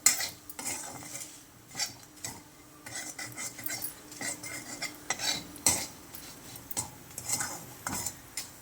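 Chilli powder, turmeric, salt and coriander powder being stirred into a pan with a metal spoon, scraping and clinking in an irregular rhythm, close and fairly loud with no talk.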